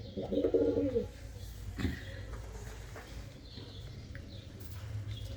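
Red pigeons, a cock and hen in a rooftop loft, give a short, close, soft cooing phrase near the start, then quieter rustles and faint low coos over a light background hum.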